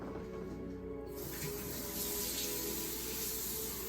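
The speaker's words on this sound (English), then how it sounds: "Just warm tap water." Warm tap water runs in a soft, steady hiss that brightens after the first second, continuous and fairly quiet throughout.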